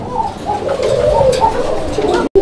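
Domestic pigeons coo in a steady run of soft, throaty calls from close by, with a brief quiet gap near the end.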